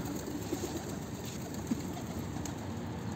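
Soft cooing of a pigeon, a few low calls over a steady background hum.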